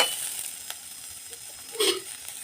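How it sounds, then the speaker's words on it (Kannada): Onion fries in oil in a kadai, a faint continuous sizzle with a brief louder stir or spatter near the end. "ಸೊ ಈಗ ನಾನು ಈರುಳ್ಳಿನ ಹಾಕ್ತಾಯಿದ್ದೀನಿ. ಫ್ರೈ ಮಾಡ್ಕೊಳ್ಳೋಣ ಈರುಳ್ಳಿನ."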